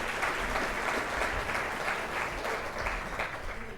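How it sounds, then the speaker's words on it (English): An audience at a YMCA volunteer recognition dinner applauds steadily and loudly, a dense wash of clapping from a full room that fades slightly at the end. "So everybody give Colleen Allison a round of applause"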